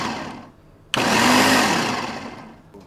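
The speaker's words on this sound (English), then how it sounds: "the reason I'm using a processor is because I want a little bit finer chop or mince on these" A food processor blends red onion to a fine mince in one loud burst, kicking in abruptly after a quiet start and whirring steadily for about two seconds before winding down.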